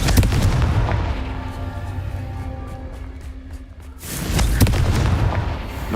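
Booming blasts of the Confringo fire spell in the Hogwarts Legacy video game: a heavy explosion opens, a ringing tail hangs for a few seconds, then a second loud burst hits near the end.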